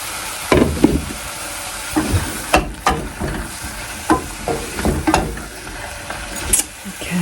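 Garlic cooking in a pan for a lentil and mushroom gratin, with uneven stirring scrapes and clatters over a soft sizzle, fairly close and moderately loud, with occasional kitchen knocks.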